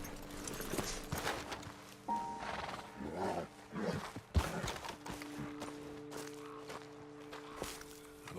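Horses shift and clop along with their riders dismounting on a rocky ledge in Red Dead Redemption 2, a few close hoof thuds and snorts amid low ambient wilderness noise and scattered movement.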